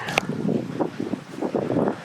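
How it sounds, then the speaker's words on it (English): Strong wind roars and buffets the microphone continuously at Pages Pinnacle, a cliff-top hiking spot, with gusty rumbling surges throughout. "It is very windy"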